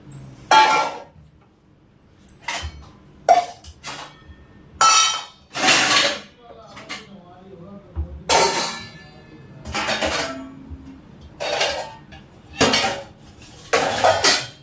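Dishes and pots are set out in a home kitchen with scattered clinks, clanks and knocks of metal and crockery, close and fairly loud, coming in irregular bursts with quiet pauses over several seconds.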